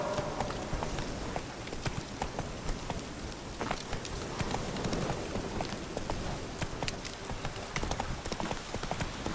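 Horse hooves clip-clop steadily and continuously while riding in The Witcher 3 on PC, a dense, busy rhythm of hoofbeats mixed with game ambience throughout.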